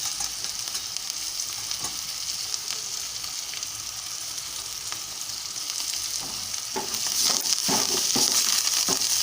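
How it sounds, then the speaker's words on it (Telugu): Curry leaves fry in oil for a mutton curry, a dense close sizzle with soft crackles that grows louder and brighter toward the end, with no voices. "బాగా వేగుతూ ఉంది."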